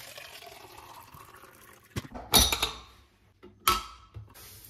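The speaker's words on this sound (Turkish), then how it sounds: "Hala su damlatmaya devam ediyor." Water drips and splashes from a Nespresso coffee machine in a few distinct bursts over a low background hiss, each spurt close and fairly quiet.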